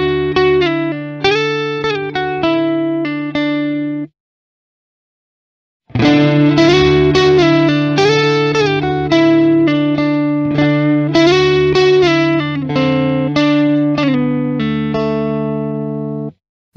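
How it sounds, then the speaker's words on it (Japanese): An electric guitar plays through an Origin Effects DCX Boost pedal in EQ mode with the gain turned all the way up, giving slight distortion. A short run of plucked notes stops, then after a pause a longer, fuller passage follows, loud and clear. "EQ モードであっても一応ゲインを思いっきり上げると少し歪みます。"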